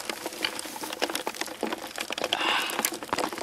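Busy wet splashing and pattering fills the clip, a dense churn of minnows thrashing in a trap, close and continuous with no voices.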